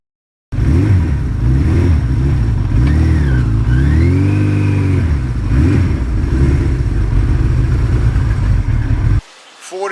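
A 1982 Suzuki GS1100E motorcycle engine runs loud and close with a deep steady roar, rising and falling in pitch as it revs, then cuts off abruptly near the end.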